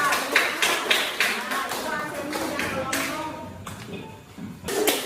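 Children in a classroom clap their hands in loose, uneven bursts of quick taps, close and fairly loud, with voices mixed in.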